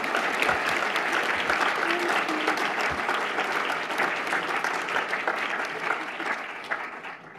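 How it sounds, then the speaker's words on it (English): Audience at an evening gathering applauds after a speech and song, sustained dense clapping filling the room at a steady loud level, with a few closer individual claps and no speech over it. "Can we get another round of applause for those beautiful words?"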